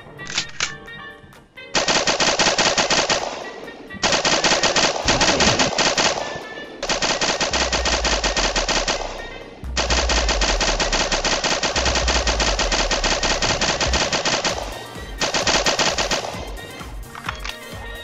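MG-42 machine gun firing in a Roblox Area 51 survival game, long loud bursts of rapid automatic fire separated by short pauses, with a deep low rumble underneath some bursts.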